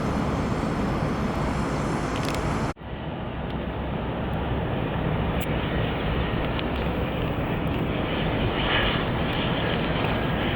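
A Cessna Citation jet flies past at a general aviation airport in Columbus, a steady loud broadband engine roar that holds for about ten seconds after a brief dropout, with no talking.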